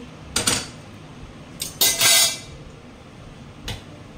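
A few sharp metallic clanks and scrapes of a wok and spatula being handled on a gas stove, spaced irregularly, with a longer rattling clatter in the middle.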